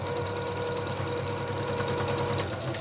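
Sewing machine stitching fabric for a book sleeve, a steady close mechanical hum with a fast even needle chatter running continuously through the whole stretch.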